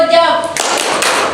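A class clapping a rhythmic cheer, quick sharp claps that turn into a dense burst of hand-taps over overlapping voices.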